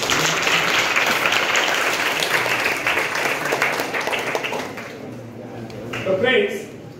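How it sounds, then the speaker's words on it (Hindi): A hall audience claps steadily for several seconds at a Hindi self-reliance lecture, the applause thinning out toward the end with a brief voice underneath. "तालियां बजाइए।"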